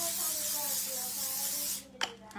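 Cooking spray hisses from a can in a home kitchen in one steady continuous burst lasting nearly two seconds, then cuts off abruptly and is followed by a small clatter.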